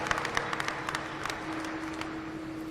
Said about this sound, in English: go ahead and give everyone one more big round of applause